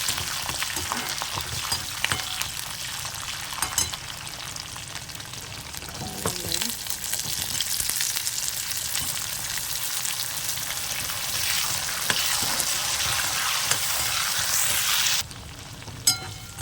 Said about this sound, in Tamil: கொஞ்சம் பூண்டு வதங்கட்டும்.